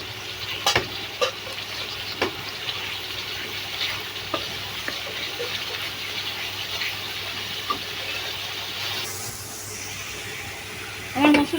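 Spice paste frying in oil in a pan with a bay leaf added, a steady low sizzle with occasional stirring knocks and scrapes, and a brief louder burst at the end.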